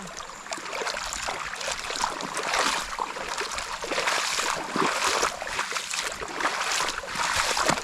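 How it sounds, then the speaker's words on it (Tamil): Water runs from an overflowing well in a forest homestead, a continuous close babbling trickle and splash that keeps going throughout. "இதெல்லாம் கிணறு ஓவர் ஃப்ளோ ஆகி தண்ணி ஓடிக்கிட்டு இருக்கா?"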